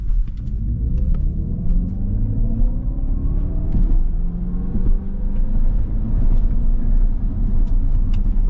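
A 2024 Dodge Charger Daytona R/T electric car launches from 0 to 60, its low rumbling drive hum rising steadily in pitch as it accelerates, close and continuous with road and wind noise, no talk.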